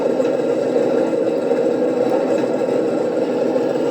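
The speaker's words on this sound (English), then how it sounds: "you push that switch all the way up, and you'll actually hear the clutch engage" A 1/16 scale full-metal Mato RC Panzer III tank model runs with its simulated engine sound, a steady close droning hum with faint whirring as the clutch engages, continuous and even throughout.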